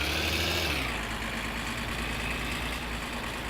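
A car engine in the driving game My Summer Car holds a loud, steady drone close up, its pitch easing down slightly early on before settling into an even hum.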